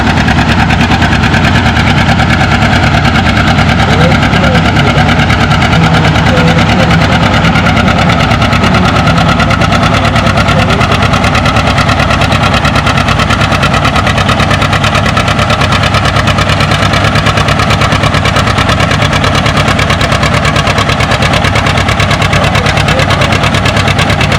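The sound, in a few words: John Deere pulling tractor engine running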